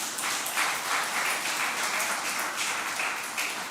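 Audience applause after the announcement of improved 2024 CXC exam results at a Ministry of Education release, a steady dense wash of clapping from a moderately distant crowd, sustained evenly throughout without speech.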